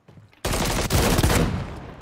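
Loud, close automatic gunfire in Call of Duty MWIII: a dense, continuous stream of shots that runs for about a second and then trails off, with no voices over it.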